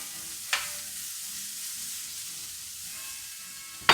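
Food sizzles steadily while basting in hot meat fat in a pan as steaks rest nearby, a constant close frying hiss with a brief clatter near the start and another at the end.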